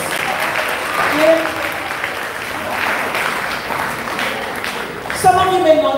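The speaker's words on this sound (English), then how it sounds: "let's give him a resounding round of applause" A school anniversary awards audience breaks into steady, sustained applause from many hands, dense and even throughout, with a voice briefly speaking near the end.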